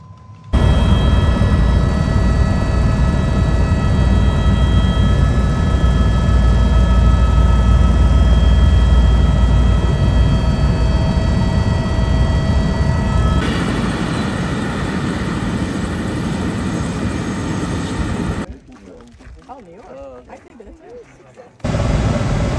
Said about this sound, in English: they're bringing us on a helicopter ride from Las Vegas to the Grand Canyon